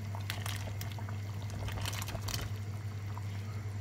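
Quiet liquid sloshing and light bubbling as prunes drop into a pot of rabbit stew simmering over medium heat, with a low steady hum underneath and a few soft splashes close by.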